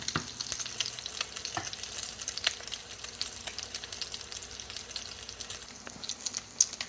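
Breaded fish fillets fry in a pan with a soft, steady sizzle and scattered faint pops and crackles, fairly quiet and close, with no talking.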